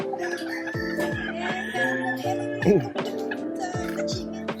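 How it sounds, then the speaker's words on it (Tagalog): Chickens cluck and chatter all around, with a rooster crowing loudly partway through amid a busy farmyard chorus. "Kakaibang chicken."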